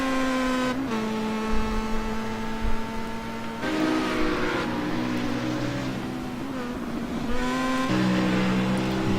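Star Mazda and BMW race cars roar around a circuit, engines rising and falling in pitch as they pass close by, with gear changes and overlapping cars throughout.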